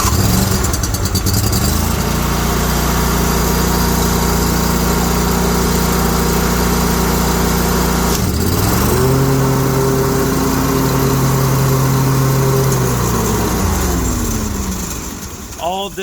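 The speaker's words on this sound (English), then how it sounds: "Did I shut the mower off while the blades are still going?" Ferris FW35 commercial lawn mower with a 52-inch deck running with blades engaged, a loud steady engine drone that dips briefly and resumes at a higher pitch before winding down near the end; voices talk over it.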